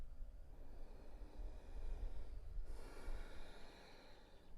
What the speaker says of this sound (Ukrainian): дихання глибоке